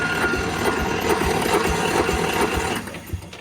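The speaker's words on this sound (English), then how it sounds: "Okay, switch on, and I'm gonna give it a pull here." Small Flintstone Mobile engine being pull-started with the switch on and throttle out: a steady, loud mechanical clatter with regular low thumps for nearly three seconds, then dropping away abruptly as it fails to fire.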